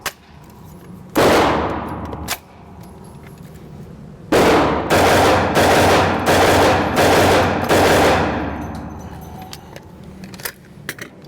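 Hi-Point 1095TS 10mm carbine fired at an outdoor range: a single loud, sharp shot, then after a pause a quick string of six booming shots with ringing decay, heard close.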